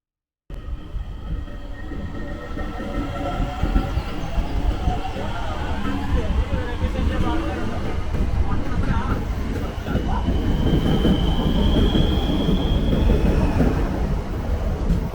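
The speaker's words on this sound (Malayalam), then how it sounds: "അപ്പോൾ നമ്മളെ വിട്ടിട്ട് നമ്മളെ ട്രെയിൻ പോയിരിക്കുകയാണ്." A train pulls out of a station in Dublin, its rumble building from a quiet start into a loud continuous roar with clattering wheels and a rising high squeal, while people talk nearby.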